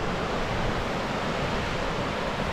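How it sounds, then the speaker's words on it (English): Ocean waves wash onto a beach in a dense, unbroken roar of surf, loud and close, with some wind buffeting and no voices. "I might better show you the waves and the beach"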